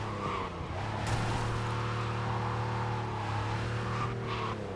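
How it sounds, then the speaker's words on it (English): A car in Cyberpunk 2077 skids under the e-brake, giving a steady loud tire squeal over a droning engine that holds throughout, with a brief sharper screech partway through. "E-brake."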